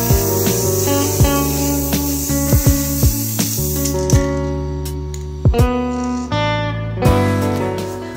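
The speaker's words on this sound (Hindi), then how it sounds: "सो ये हम स्प्रे पेंट स्टार्ट कर रहे हैं" Spray paint hisses from an aerosol can onto old paper for a home decor craft, in several short bursts over steady background music.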